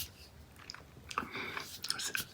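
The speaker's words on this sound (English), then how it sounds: "I can hear the sugar crunching in my mouth." Close, quiet chewing of Tajin chili and lime seasoned gummy peach rings candy, with soft sticky, crunchy mouth sounds and small clicks in an intimate ASMR setting.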